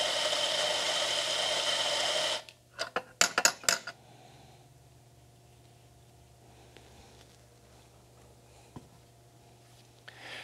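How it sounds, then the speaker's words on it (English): An espresso coffee grinder whirs steadily for about two seconds as it grinds an 18 gram dose into a portafilter, then cuts off, followed by a few sharp metallic clanks and knocks nearby. "I have this set up at about 18 grams, an 18 gram dose, and I'm just going to grind into my portafilter"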